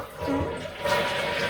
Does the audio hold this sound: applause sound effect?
no